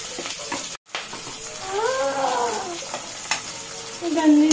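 Vegetables hiss and sizzle as they hit a hot pan for spicy fried rice, a steady close frying crackle with a brief clatter of stirring and a dip near the start, continuing loudly alone.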